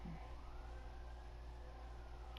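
Emergency sirens wail faintly in the distance outdoors behind a steady low background hum, with a thin drawn-out tone and no voices.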